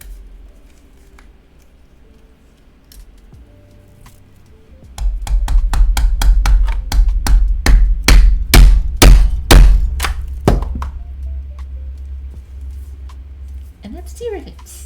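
A rapid series of sharp, close hammer blows drives rivets into a leather journal holster, about a dozen strikes accelerating then stopping, with quiet handling noise and a voice speaking around them.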